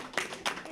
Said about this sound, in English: Lift up that applause even stronger.